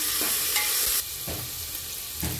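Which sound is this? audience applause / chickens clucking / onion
onion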